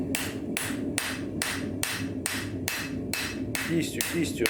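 Steady hammer blows ring out on an anvil as a knife blade is forged, about eight sharp metallic strikes in an even rhythm, close and clear with no voices.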